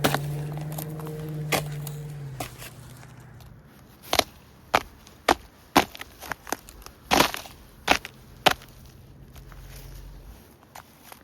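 Several sharp, hard thuds and cracks of a foot stamping on frozen river ice in a Canadian winter, spaced irregularly, with a low hum early on and quiet outdoor air between hits.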